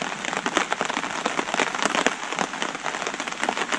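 Heavy rain pours steadily outdoors at a bushcraft fire site, a dense continuous hiss of drops striking surfaces with scattered sharper splats throughout, close and loud with no voices.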